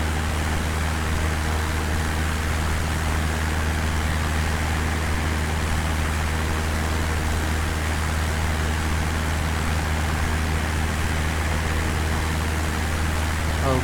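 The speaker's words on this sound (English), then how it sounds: "Yeah, see, it was just the engine." Steady aircraft engine drone in Microsoft Flight Simulator X during a cross-country flight, a constant loud hum filling the whole stretch with no talking.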